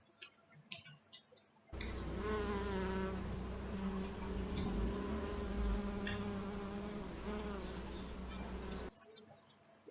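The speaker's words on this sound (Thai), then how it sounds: "นั่นก็คือเสียงของ ผึ้งเวลาเขาบินนั่นเอง" A flying bee's wings buzz in a steady, close, droning hum that holds for several seconds and then cuts off, with quiet background sounds before and after.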